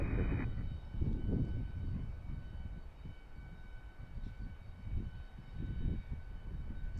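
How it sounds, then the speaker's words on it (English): A Gulfstream 4 jet rumbles at an airport, a low, steady engine roar that swells and fades in gentle waves, distant and fairly quiet, with no voices. "So this will be the Gulfstream 4. That's the one that just came in."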